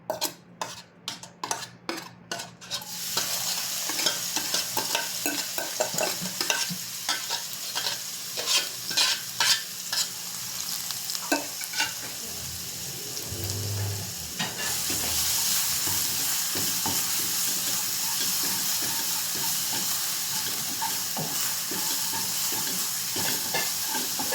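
Onion and garlic for crispy pork kare-kare sizzle and fry in a pan while a utensil stirs and scrapes with steady clinks, a few sharp metallic taps opening the sequence before the frying settles into a loud continuous hiss.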